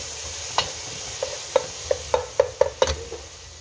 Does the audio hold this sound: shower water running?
no